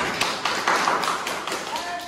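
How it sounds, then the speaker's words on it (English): Students clapping in a classroom give a sparse run of sharp claps over steady room noise and mixed voices, uneven in timing and fairly close. "Clap your hands if you understand."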